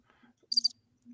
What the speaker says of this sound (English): I don't have a cricket sound.